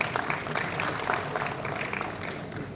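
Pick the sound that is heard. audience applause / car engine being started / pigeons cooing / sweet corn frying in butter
audience applause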